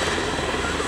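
A Eurocopter EC-120B Colibri helicopter with a Turbomeca Arrius turbine drones loud and steady, its turbine whine and rotor rumble filling the short moment without a break.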